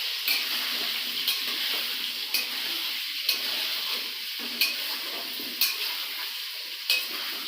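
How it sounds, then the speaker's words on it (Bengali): Potatoes with salt and turmeric fry steadily in a karahi, a continuous close sizzle broken by regular scraping strokes of a spatula stirring them about every second, with no voices. "এবার আলুটা ভালো করে ভাজবো"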